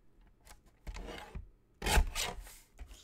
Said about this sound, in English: Let's just trim that little bit off there.